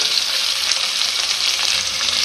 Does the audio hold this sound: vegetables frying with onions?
yes